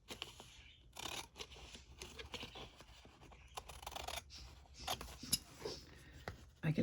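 Scissors snipping paper for a journal page, a steady run of quiet close cuts and rustles at an even rhythm, with no talk.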